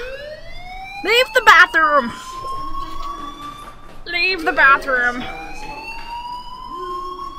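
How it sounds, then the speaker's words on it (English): Fire alarm siren sounding in the video game Life is Strange, a steady rising electronic wail running throughout, with loud voices shouting over it. "do you hear that fire alarm? That means you should be outside."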